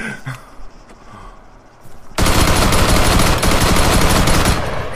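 Gunfire in the military shooter ArmA 3: after a couple of seconds of quieter ambient game noise, a loud, sustained burst of rapid automatic fire erupts and continues unbroken to the end.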